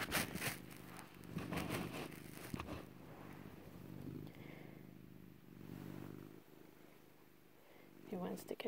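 A cat purrs steadily and close by throughout, a low rumbling drone, with a person talking intermittently over it and some rustling and scraping noises at the start and end.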